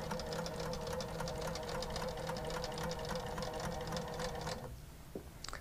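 A sewing machine stitching a quilt on a small quilting frame, running in a steady fast hum of stitches, close and continuous before slowing to a stop near the end, with no talk.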